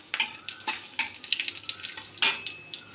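Dried red chillies and panch phoron spices crackling in hot mustard oil in a kadai, a busy sizzle with repeated sharp pops and spatters over about three seconds, close and moderately loud with no talking.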